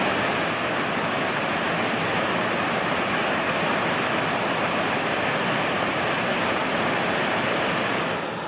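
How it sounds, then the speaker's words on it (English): A waterfall on the Pennine Way pours in a steady, loud, broadband rush that holds level for the whole stretch, with no voices over it. "More waterfalls today."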